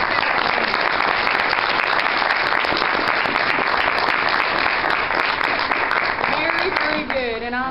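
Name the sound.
audience applause and hand clapping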